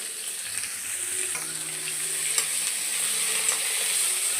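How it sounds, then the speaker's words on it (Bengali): Sliced ridge gourd frying in a pan with salt and turmeric, a steady close hiss of sizzling oil with occasional soft stirring clicks, and no talking. "লবণ আর হলুদ দিয়ে ঝিঙেটাকে একটু ভালোভাবে ভাজা করে নেব"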